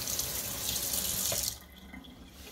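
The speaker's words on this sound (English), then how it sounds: "then you're going to rinse it with water" A dog collar, an animal ID band, rinsed under running tap water: a steady loud hiss of the faucet stream that cuts off midway, leaving quiet room tone.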